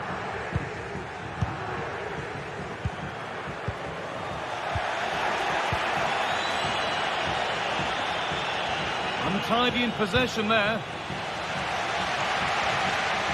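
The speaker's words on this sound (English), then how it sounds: "the crowd are certainly trying to motivate the team to push them forward to get the equaliser" A football stadium crowd roars and chants steadily through a match broadcast, a broad sustained wash of noise under a commentator's voice, swelling slightly with a burst of whistling and shouts near the end.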